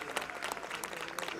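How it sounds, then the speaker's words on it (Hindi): Audience clapping at a devotional poetry gathering honoring Ram devotees, a steady crackle of many hands sustained evenly throughout with a few sharper bursts, heard at moderate distance. "तालियां राम भक्तों के लिए बजा"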